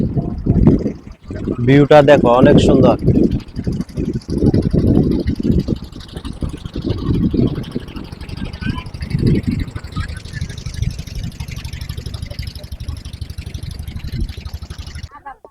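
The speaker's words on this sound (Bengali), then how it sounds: "সুন্দর একটা ট্রলার আসতেছে" A trawler boat engine on a river chugs steadily as the craft approaches, loud and rumbling beneath a person talking near the riverbank.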